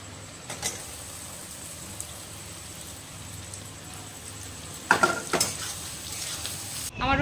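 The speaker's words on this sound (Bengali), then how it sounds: "এবার আমি দিয়ে দেবো পেঁয়াজটা।" Chopped onion tossed into a hot wok of oil with ginger, garlic and green chili, a steady soft sizzle that swells into louder crackling bursts and stirring scrapes near the end.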